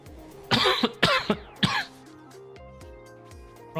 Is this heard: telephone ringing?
no